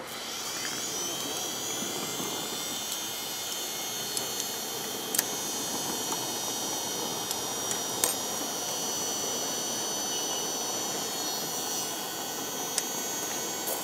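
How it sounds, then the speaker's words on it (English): A 24-volt electric blower, a cooling fan taken from a Lancaster bomber, whirs with a steady, even whine and hum throughout, with a few faint clicks on top. "It's a cooling fan out of a Lancaster bomber"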